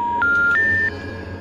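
Telephone dialing in the video game Granny 2, three clear electronic tones rising in pitch one after another, loud and close over a low background hum.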